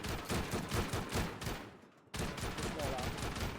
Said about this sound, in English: We're going to shoot that wall.